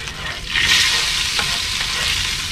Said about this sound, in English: I'll be back when my margarine's melted and we'll throw down them hash browns.